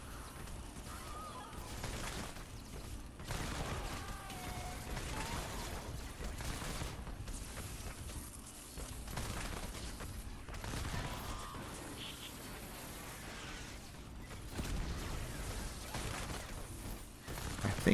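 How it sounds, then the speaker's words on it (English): Rapid gunfire rattles in the Fortnite Save the World mission at Twine Peaks, a dense mechanical stream of shots and clicking weapon sounds continuing throughout at moderate level, with brief louder bursts near the end and no speech. "But I haven't seen one yet, so I just keep shooting"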